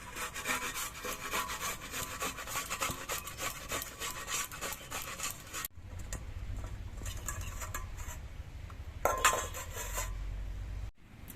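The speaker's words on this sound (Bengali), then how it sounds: "এই আদাটা আমি ঘষনি দিয়ে ঘষে নিচ্ছি" Peeled ginger being grated on a hand grater, a close rhythmic rasping scrape in rapid strokes, pausing briefly midway before resuming more softly.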